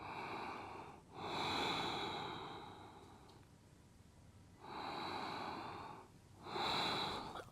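Slow, deep breaths during a gentle restorative yoga side stretch, each long airy inhale and exhale rising and fading in turn, close and quiet with no talking.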